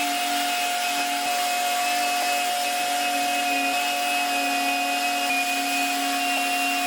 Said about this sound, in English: A 240 grit sandpaper on a random orbital sander.